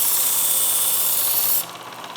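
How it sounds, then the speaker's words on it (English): A Work Sharp E5 belt sharpener grinds a kitchen knife against its belt, giving a loud steady abrasive hiss that suddenly fades to a quieter motor hum near the end. "as soon as I drop that knife into the guide and contact the belt"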